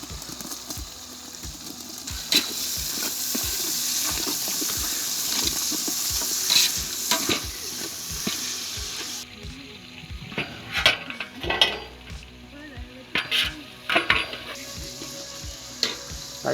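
Chicken gravy bubbling and sizzling in a pan after tomatoes go in, with steady frying hiss and frequent stirring scrapes and clinks throughout, close and moderately loud, no talking.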